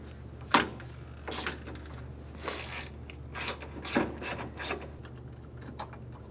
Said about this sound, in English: We're going to remove the three 10 millimeter bolts for the hood latch.